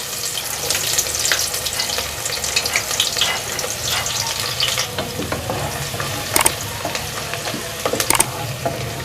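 Finely chopped onion frying with cumin seeds in a pan gives a busy, crackling sizzle close by, with intermittent stirring knocks and scrapes and no talking.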